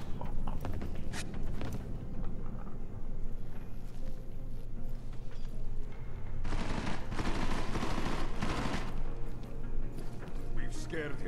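Gunfire in Deus Ex: Mankind Divided: dense, rapid bursts of shots rattle almost nonstop, and a heavier volley swells through the middle stretch, loud and close.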